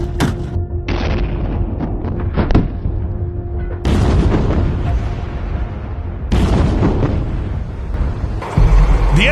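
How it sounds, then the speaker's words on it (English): M230LF 30mm chain gun firing in several loud bursts of heavy, booming reports that ring out in a rapid sequence, with short pauses between the volleys. "Meet the new M230LF, America's 30mm chain gun system."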